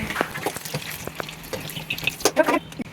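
Wontons deep frying in oil over a low flame crackle with soft bubbling pops and a few sharper spits toward the end, steady and close by.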